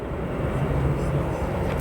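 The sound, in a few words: Boeing 747 landing at O'Hare airport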